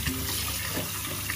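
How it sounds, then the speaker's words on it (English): Tap water running steadily while eggs are rinsed under it, a close, continuous splashing hiss with no pauses. "So just rinse your eggs with the running water,"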